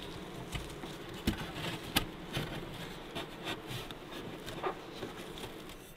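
Honeybees buzzing around a hive being closed up in Alaska in spring, a close, dense hum with scattered taps and knocks from handling the hive; no voices.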